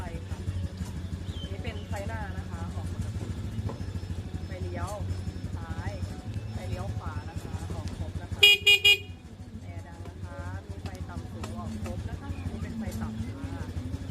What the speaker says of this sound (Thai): อันนี้คือเครื่องติดแล้วนะคะ